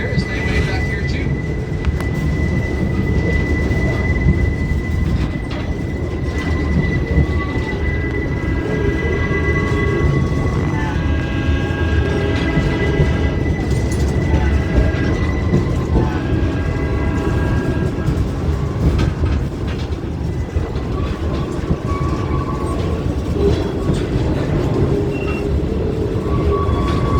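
A tourist train on the Colorado Southern route rumbles along steadily for a long stretch, wheels clattering over track with occasional squeals and tonal whines, loud and close, while a voice talks over it.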